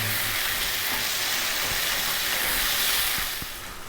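A bacon, mushroom, tomato and garlic pasta sauce simmers in a pan with a steady close hiss, broken by a few soft knocks of stirring, no voices.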